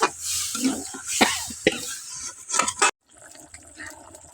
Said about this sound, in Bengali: হলদি লবণ শুকনো লঙ্কার গুঁড়ি দেওয়ার পরে এখন আমি জল দেবো।